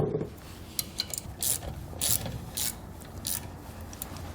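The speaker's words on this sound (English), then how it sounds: "We're going to go ahead and tighten down these two handle bolts here." A wrench tightens the handle bolts on a B and W Companion 5th wheel hitch in a 2017 Chevrolet truck, giving a series of short metallic ratcheting clicks in irregular bursts over a quiet background.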